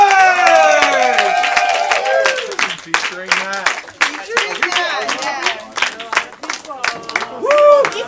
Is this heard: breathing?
no